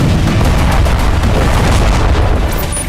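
A rocket strike on buildings in southern Lebanon rumbles as a loud, dense roar of blast noise, sustained and unbroken for the whole stretch without clear separate impacts.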